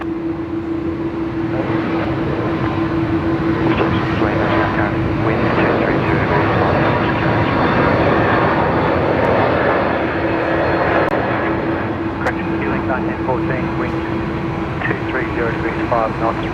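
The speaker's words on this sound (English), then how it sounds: "Oh, I can hear an A330." Airbus A330 airliner engines at Brisbane Airport give a broad, steady roar with a constant droning hum, heard at a distance for a long stretch while people talk over it.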